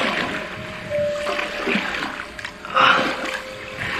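A shark thrashes and splashes in shallow water as it swims off, producing bursts of watery sloshing and spray at close range, irregular surges with a sharper splash toward the end.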